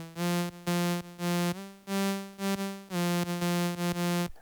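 A plain, bright initialized synthesizer patch repeats a low note in short and sustained bursts, buzzy and harmonically rich, with crisp clicks at each note start.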